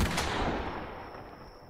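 A single gunshot in the video game The Quarry fires at the very start and decays into a long, fading reverberant tail with a thin high ring lingering. No voices are heard.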